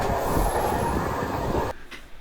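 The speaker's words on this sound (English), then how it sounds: "there was a steam train at the train station in Sheringham" Steam train at Sheringham station on the North Norfolk coast, a loud, close, continuous rumble of rolling wagons with a high wheel squeal that cuts off sharply near the end.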